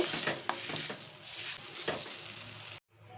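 Spoon stirring salt into egg curry in a pan, a soft scraping and bubbling with a few distinct strokes, close and moderately loud, ending abruptly in a brief silence.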